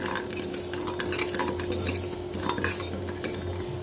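Raw rice is stirred and dry-roasted in a pan for idly podi, with a spoon scraping and clinking against the metal in a quick, busy rhythm, close and steady.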